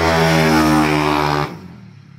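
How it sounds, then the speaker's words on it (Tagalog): A Yamaha Mio scooter with a 218cc four-valve engine build revs loudly up close in a strong, steady buzzing drone that cuts off sharply, then drops to a faint idle. "Parang nagwawala yung motor sa lakas."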